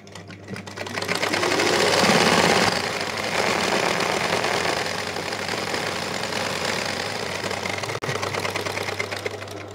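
Sewing machine stitching a square-neck Punjabi dress top, running as one loud continuous whirring drone for nearly ten seconds, with a brief break near the end and no talking.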